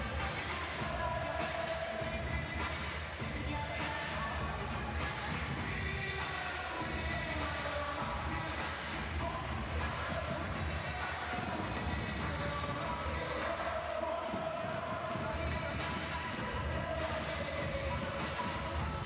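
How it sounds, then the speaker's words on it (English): Basketball arena crowd at a Euroleague game between Baskonia and Olympiacos, a continuous broad roar of cheering and chatter, moderately distant, with faint thuds and squeaks mixed in. "The crowd absolutely loving this."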